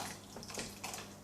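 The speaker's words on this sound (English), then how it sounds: "we're going to add a little bit of water, maybe like half a cup" About half a cup of water splashes into a partly blended peanut, meat and okra mixture, a short soft pour heard close and alone.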